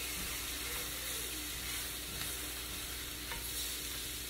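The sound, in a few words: tomatoes deglazing a pan of meat patties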